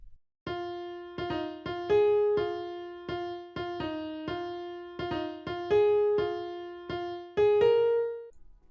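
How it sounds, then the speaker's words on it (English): A piano plays a groovy, syncopated melody for a tech house track: short, clipped notes and chords in a steady bouncing rhythm with brief gaps, clean and upfront with no voices. "I've loaded up a piano and I already made a groovy kind of melody which sounds like this."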